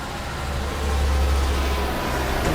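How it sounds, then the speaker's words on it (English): A bus passes close by on a street in Florence, Italy, its deep engine rumble swelling loudly through the middle and easing off, with no voices over it. "there's a bus"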